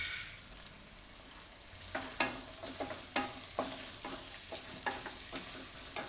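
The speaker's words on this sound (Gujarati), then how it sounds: "તો તેલમાં થોડીક વાર આ રીતે પકાવી લેવાનું. ને વટાણા નાખી દેવું" Peas cook in oil with turmeric for a jowar pulao, making a faint, low sizzle under irregular spoon scrapes and clinks against the pan that come every half second or so, with no talking.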